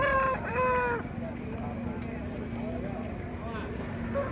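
An Aseel rooster at the Gudur chicken market gives one fairly close crow in the first second, followed by steady market hubbub and people talking, with a fainter crow further off near the end.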